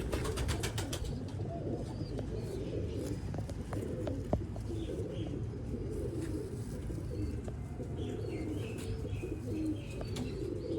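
Kuwaiti teddy pigeons coo steadily on a rooftop loft in Sialkot, a dense, continuous murmur of overlapping low calls with occasional chirps and a brief wing flutter, close and even in volume.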